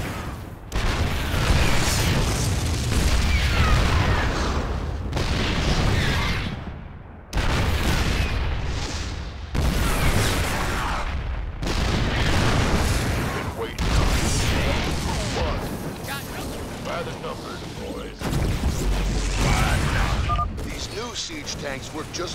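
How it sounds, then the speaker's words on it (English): Siege tanks firing on cannons in StarCraft 2: Wings of Liberty, heavy booming artillery blasts in repeated bursts mixed with game dialogue and background sound. "These babies will knock those cannons down from a nice,"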